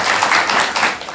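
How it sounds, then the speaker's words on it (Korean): Brief burst of audience clapping at a Korean Buddhist monk's talk, a short, fairly loud patter of hands. "이럴 때 큰 박수 한번 드리시기 바랍니다."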